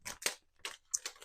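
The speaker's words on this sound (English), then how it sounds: "And so I'm going to open this. I love that it comes in this bag," A reusable plastic bag from a diamond painting kit is handled and opened, giving four quick, quiet crinkling rustles with brief pauses between them.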